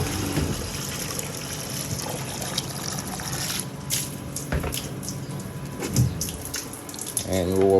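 Tap water runs into a 5-liter container on a New Zealand dairy farm, a steady close trickle and splash over a busy background hum, swelling louder near the end.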